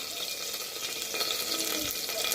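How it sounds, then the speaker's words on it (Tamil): Fennel seeds sputter in hot oil at the start of a greens-stem soup, a quiet close hiss and crackle with a few brief stirring sounds, no voices. "இப்போ எண்ணெய் ஊற்றிருக்கேன், கொஞ்சம் சோம்பு போட்டிருக்கேன்"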